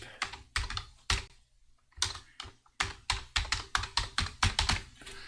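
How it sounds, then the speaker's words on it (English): Keys clatter on a computer keyboard nearby, bursts of quick clicks with a short pause, then a steady, rapid run of keystrokes. "I can simply start typing an address"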